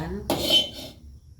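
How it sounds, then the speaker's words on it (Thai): A metal lid drops onto a cooking pot on a home kitchen stove with one sharp clang and a short ringing tail, heard close. A voice is briefly audible just before it. "ปิดฝา"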